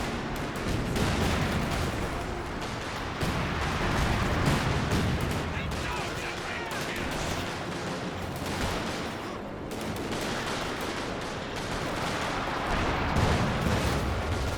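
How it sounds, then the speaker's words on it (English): Light artillery barrage in Company of Heroes 2, a sustained run of distant shell bursts and rapid gunfire thudding irregularly under a voice talking throughout. "Light artillery barrage now firing."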